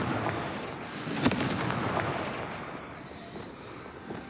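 The Confringo fire spell in Hogwarts Legacy goes off with a sharp explosive burst followed by crackling, rumbling blasts and a fading roar, heard alone at moderate loudness.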